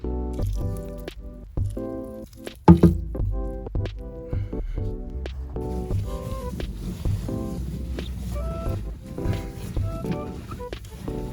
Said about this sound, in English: add this, and then add water and mix it all up